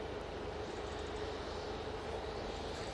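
Ryanair Boeing 737 MAX 8 jet at Manchester Airport, a steady broadband engine roar held evenly throughout, moderately distant with no voices over it.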